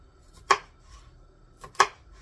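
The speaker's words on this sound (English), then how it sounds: "I'm going to get that cut up into strips because I'm going to make a stir fry" Two sharp knife strokes cut through home-canned chicken on a board, slicing it into strips for an orange chicken stir fry, each chop close and distinct about a second apart against a quiet background.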